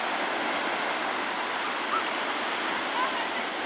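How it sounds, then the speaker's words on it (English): Steady broadband wash of ocean surf at Myrtle Beach, a continuous roar with no distinct breaking rhythm, moderately loud and unbroken. "The ocean is awesome right now."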